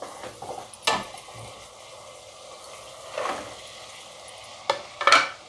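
Cluster beans and kachri are tipped into cooked masala frying in oil in a pan. A steady soft sizzle runs under a few sharp clatters of a spoon against the pan, with no talking.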